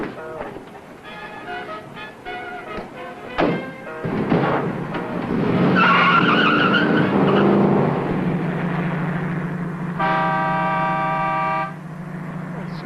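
A car starts and drives off in an old 1950s sitcom scene, with horn toots, engine revving and a rising tire skid, loud and close, mixed with speech and music.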